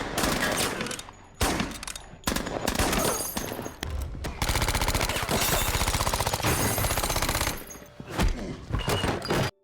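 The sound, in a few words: gunfire and machine gun shots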